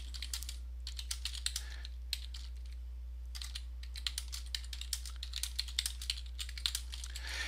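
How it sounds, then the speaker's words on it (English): Keystrokes on a computer keyboard while typing text into a drawing text box in Autodesk Fusion 360, a quick irregular clatter of close, crisp taps with a brief pause in the middle, no talking. "Now just simply start typing."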